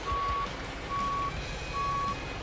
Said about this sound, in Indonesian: Kita mundur lagi ya